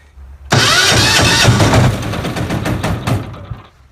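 Diesel generator engine cranking and catching, a sudden loud start that settles into a rough, rumbling run with chugging pulses before easing slightly.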